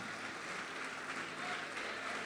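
A church congregation claps and cheers during a worship service, a dense steady wash of applause mixed with voices, loud and close throughout.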